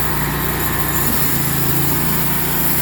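A sawmill driven by a failing motor runs with a constant loud, rough engine drone, unbroken and close.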